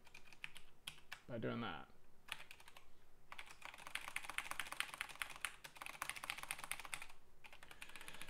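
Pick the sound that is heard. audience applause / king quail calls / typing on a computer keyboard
typing on a computer keyboard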